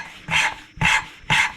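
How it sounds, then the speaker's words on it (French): An engine valve on a Peugeot 205 GTI cylinder head is lapped by hand with lapping paste, giving three rhythmic gritty scrubbing swishes, close and clear, with short pauses between strokes. "Mais la vraie technique du rodage de soupape,"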